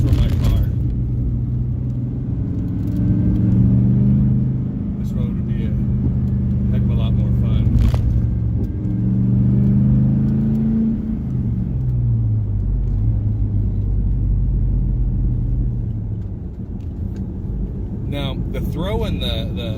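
A 1999 Camaro with a manual stick shift rumbles with a deep, steady engine drone from inside the cabin while driving, rising and falling as it shifts through gears, with someone talking over it.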